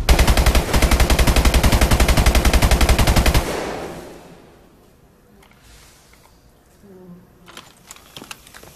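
Rapid automatic gunfire from a first-person shooter match, a loud sustained burst of dense shots for about three and a half seconds, then quieter scattered game sounds and faint clicks.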